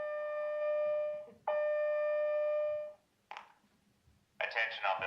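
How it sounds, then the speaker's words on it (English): A building fire alarm sounds a loud, steady electronic tone for about three seconds with a brief break, then stops as people's voices follow. "An alarm has sounded on floors 20, 21, 22"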